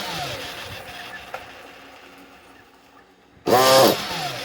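A newly built NOVA B5R small experimental engine, set to a slightly raised idle, is cranked and catches near the end, bursting into a loud, close buzzing run after a quiet stretch of faint mechanical noise.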